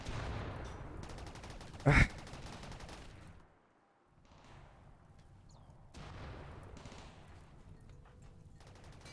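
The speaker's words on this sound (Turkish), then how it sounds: "Patlıyoruz abi. Gümbür gümbür. Her yerden patlıyoruz." Explosions and bursts of gunfire from the RimWorld video game, a dense, continuous barrage with one sharp loud blast near the start, a brief lull, then the firing resumes.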